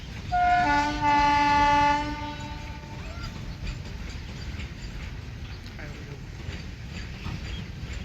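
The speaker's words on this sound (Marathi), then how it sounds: "ट्रेन चालले." A train moving along railway tracks blows a loud, sustained horn for about two seconds at the start, followed by a continuous low rumble and rattling of wheels on rails, heard from nearby and without talk.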